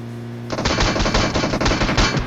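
Rapid close-range gunfire from an S12K shotgun and Mk14 rifle in PUBG Mobile, loud dense bursts of shots starting after a brief quiet hum and continuing steadily to the end.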